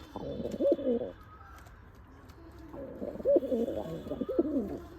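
Giribaz pigeons cooing nearby, two bursts of soft throaty rolling coos separated by a quieter pause, fairly close and clear.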